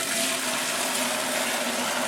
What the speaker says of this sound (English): Pour it from one into the other, and hopefully I don't make a huge mess.